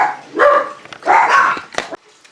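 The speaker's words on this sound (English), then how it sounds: "I can't guarantee the dogs won't come back and keep barking" Dogs bark close and loud in two strong bursts followed by a few quick yips, then fall quiet.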